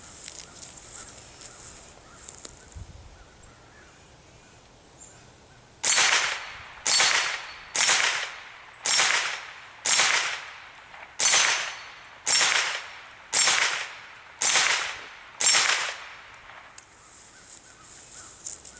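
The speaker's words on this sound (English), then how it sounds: "We're taking a few shots here on target, see if she can hit the steel a little bit" A Smith & Wesson M&P 15-22 rifle fired at a steel target, about a dozen sharp cracks in a steady, evenly spaced string, each ringing briefly. Quieter scattered sounds come before the shooting starts.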